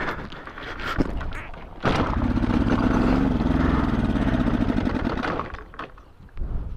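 An old 250 engine, primed with fuel squirted from a syringe, briefly fires and runs with a loud, steady mid-pitched drone lasting a few seconds before dying away, with scattered clatter and handling noises before and after.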